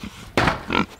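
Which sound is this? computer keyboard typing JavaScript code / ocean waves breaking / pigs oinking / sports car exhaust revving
pigs oinking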